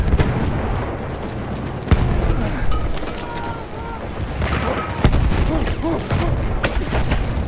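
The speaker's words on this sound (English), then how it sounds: "Throwing a grenade!" A grenade blast in Battlefield 1 amid ongoing battle, with sharp booms and scattered gunfire over a noisy war backdrop and distant shouting voices in the game.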